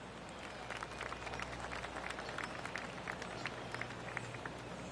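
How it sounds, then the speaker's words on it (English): Golf gallery applause in PGA Tour 2K25, a steady patter of many hands clapping at moderate distance, sustained evenly throughout with no voices standing out. "Oh, golf clap. That's a beauty."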